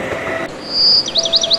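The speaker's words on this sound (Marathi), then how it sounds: "पक्ष्यांच्या किलबिलाटानं आणि गोठ्यातल्या जनावरांच्या हंबरण्यानं उगवणारी सकाळ" Birds chirp and tweet on a village morning, with a sustained high whistle followed by a quick run of rhythmic chirps, fairly close and clear over faint background hiss.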